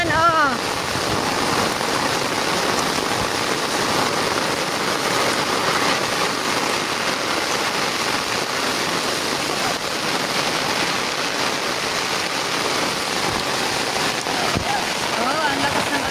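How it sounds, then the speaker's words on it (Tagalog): Steady heavy rain hisses and drums without pause, loud and close, with a few voices faintly underneath. "ang lakas na ng ulan, oh."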